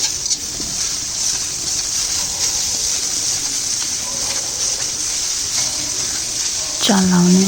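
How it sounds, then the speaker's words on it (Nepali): Tomatoes and onions cook in a pan with a soft, steady sizzle, left alone to fry while a voice speaks over it and a short clatter comes near the end. "एकछिन मैले पाक्नका लागि छोडिदिएँ टमाटर र प्याजलाई"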